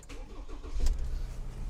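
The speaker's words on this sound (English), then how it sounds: "Let me start this car up really quickly" A 2019 Ford Transit Custom van engine starting: a short cranking whir catches into a deep rumble that swells and then settles into a steady idle, close by, with no talk.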